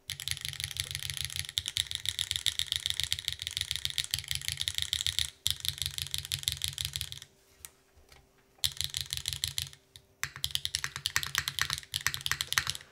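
A Fossil F13 mechanical keyboard with HMX Gravel switches, aluminum plate and GMK keycaps is typed on rapidly, producing dense close clacking in bursts with a couple of brief pauses and no talking.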